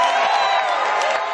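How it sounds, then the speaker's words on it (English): Crowd cheering and whooping with applause right after a governor signs a bill taxing income over $1 million into law, a steady, dense roar of many voices filling the room. "Give a round of applause for everybody on their hard work on this legislation."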